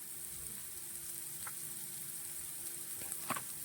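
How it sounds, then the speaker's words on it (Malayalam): Masala of tomato and onion frying in a pan for a traditional Kerala dish, a soft, steady sizzle heard close with a few faint stirring clicks near the end. "ഇനി ഈ മസാല ഇത് നന്നായിട്ട് കിടന്ന് ശരിക്കൊന്ന് മൂക്കണം"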